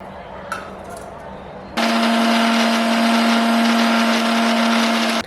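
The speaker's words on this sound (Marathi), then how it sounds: "वाटण्यासाठी ह्या मिरच्या आहेत थोडं लसूण आहे आणि थोडं आलं" An electric mixer grinder blends green chillies, garlic and ginger into a paste, starting abruptly after a quiet moment and running as a loud, steady motor whine with a harsh grinding roar to the end.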